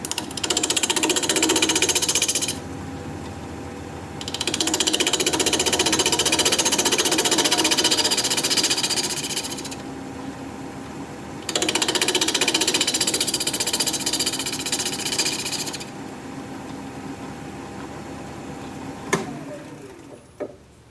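A wood lathe turning a goblet at about 900 RPM, a steady close mechanical whir that runs in long stretches with short quieter gaps, ending with a few knocks and clicks.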